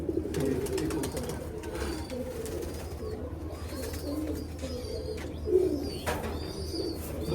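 Domestic high-flying pigeons coo softly in a loft, low throaty calls repeating against a steady background hum, moderately faint and close, with occasional wing rustles and no talk.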